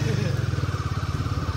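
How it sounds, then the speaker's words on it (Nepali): A Royal Enfield 452 cc motorcycle engine pulls hard in first gear, its loud, steady rapid thumping close up and continuous throughout. "एक गियरमै बबाले कुदिरहेछ गाडी।"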